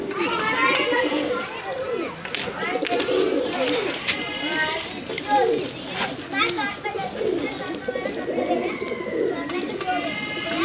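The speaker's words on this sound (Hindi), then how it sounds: "बहुत ही प्यारा वजूद का कबूतर" Neeldumma pigeons coo and flutter amid lively background chatter and children's voices, the bird sounds close and mixed with steady crowd noise.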